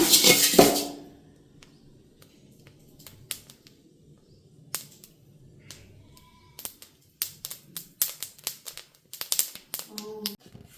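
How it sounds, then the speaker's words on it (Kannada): Sesame seeds roasting in a pan give off scattered sharp pops and crackles, sparse at first and then quicker and denser, after a brief clatter at the start. "ಸ್ವಲ್ಪ ಎಳ್ಳು ಚಟಪಟ ಅನ್ನೋವರೆಗೂ ಹುರಿಬೇಕಾಗುತ್ತೆ"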